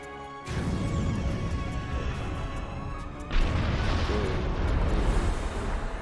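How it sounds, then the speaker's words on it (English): Explosions in the space video game Star Trek Online, a loud burst of blasts erupting at once and then a second, heavier wave of booms a few seconds later, with rumbling debris filling the gaps. "Explosions right and center."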